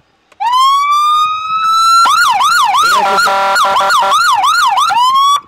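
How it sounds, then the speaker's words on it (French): A loud, close Crown Victoria police car siren rises into a steady wail, then switches to a rapid warbling yelp before winding down. "Mets-nous un coup la sirène et tu fais un coup de klaxon pour finir là-dessus."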